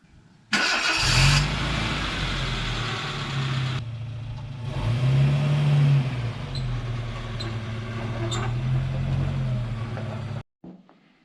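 A big-wheeled vehicle's engine, likely a small motorized buggy, starts for the first time with a loud catch, then idles steadily with two rising revs before cutting off abruptly near the end.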